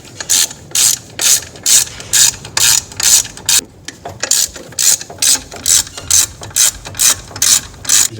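Ratchet wrench loosening a bracket bolt on a 7.3 Powerstroke diesel engine, close and loud, clicking in rapid repeated bursts of back-and-forth strokes with a short pause midway, no talking.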